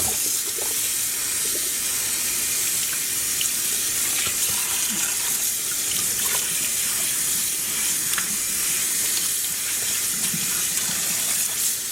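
Tap water runs steadily over black-dyed cotton and non-superwash wool yarn being rinsed, a loud, continuous hiss and splash broken by faint handling sounds, with no talking.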